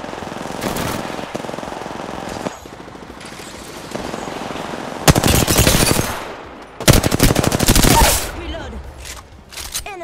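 Apex Legends gunfire comes in loud automatic bursts, two long dense volleys in the second half, over quieter background game sounds.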